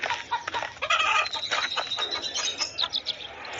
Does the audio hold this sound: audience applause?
no